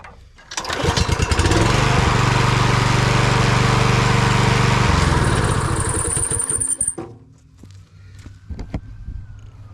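A small gasoline engine with Seafoam fuel treatment added to clean its carburetor runs loud and steady for about six seconds, then cuts out, leaving faint background noise.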